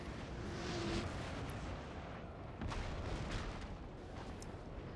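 Booming artillery fire in Napoleon: Total War, a steady roar of cannon and battle noise with a few louder blasts rising out of the continuous din, no voices.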